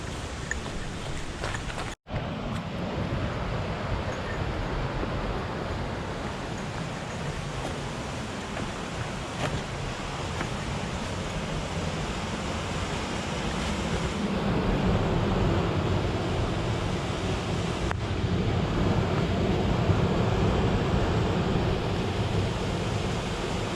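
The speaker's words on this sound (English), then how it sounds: "I'm sure the water's ripping pretty good today due to all the rain." After heavy rain, water surges over the Grandfather Falls dam on the Ice Age Trail in Lincoln County, a dense, continuous roar heard from nearby, with a brief dropout early on and the rush growing slightly louder later.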